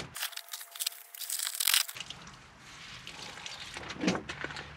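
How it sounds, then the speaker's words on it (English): Chunks of old foam insulation are torn and pulled out of a hot tub cabinet, making crinkly tearing and crunching bursts up close, loud at first, then scattered softer crackles. "remove this foam in as big of chunks as I can just to cut down on mess"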